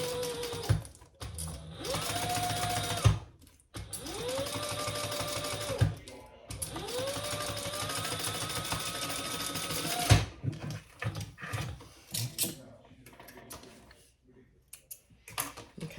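A sewing machine runs in several bursts of steady stitching, each a few seconds long with short pauses between, while a seam allowance is sewn on a crossbody bag. The motor whirs close and fairly loud, and a faint voice speaks briefly near the end.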